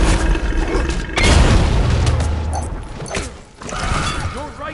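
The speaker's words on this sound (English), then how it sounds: "Your right tower has been destroyed." Explosion from a destroyed tower in Kingdom Hearts 2.8 on PS4: a heavy low boom swells and rumbles for several seconds, loud and close, followed by a smaller crackling burst.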